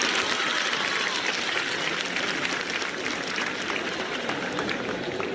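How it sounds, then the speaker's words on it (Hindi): Audience at a school annual function applauds, a steady, fairly faint wash of clapping with no talk over it. "तो ताली तो क्यों नहीं मारते हो?"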